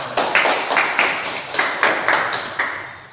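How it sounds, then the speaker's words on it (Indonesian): Classroom applause at the end of an automotive vocational lesson on diagnosing and repairing a conventional starter system: a short burst of hand clapping, a few sharp overlapping claps that rise and fade, fairly near, with no talk. "Ya, terima kasih, kasih tepuk tangan."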